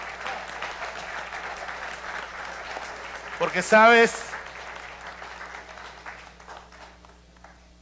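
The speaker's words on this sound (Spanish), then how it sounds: "Démosle un fuerte aplauso a nuestros ancianos." A church congregation applauds its elderly members in a short, loud burst of clapping that rises briefly and fades under ongoing speech from a preacher.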